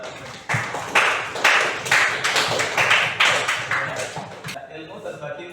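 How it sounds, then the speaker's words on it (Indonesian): Applause for a student in an online class: a string of fairly close hand claps in quick rhythmic bursts that stops abruptly near the end, followed by quieter room sound. "Kita beri aplaus terlebih dahulu kepada"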